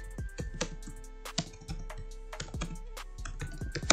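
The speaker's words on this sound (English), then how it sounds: "so you can just type" Keys on a computer keyboard clatter in quick irregular bursts with short pauses, close and clear, with no voices.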